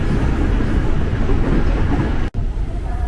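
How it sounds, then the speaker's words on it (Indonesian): A freight train rumbles steadily past close by, a dense broadband roar of cargo wagons with faint rhythmic clatter, broken by a brief near-silent dropout before the rolling noise resumes. "Woi, lagi-lagi langsung ada kereta barang."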